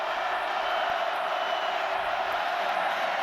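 A packed college football stadium crowd at an Oklahoma vs Texas Tech game keeps up a steady, dense roar of cheering throughout, distant and continuous without breaks.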